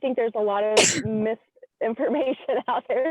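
A single sharp sneeze bursts out mid-sentence as one person keeps talking, then a brief pause before the speech resumes.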